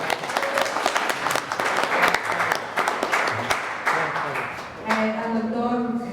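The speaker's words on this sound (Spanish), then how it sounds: "Un aplauso, por favor." Audience applause at a seminar in Santa Fe de la Laguna, Michoacán, honoring a doctor receiving a certificate. Steady clapping from a crowd fills the room, with voices talking over it near the end.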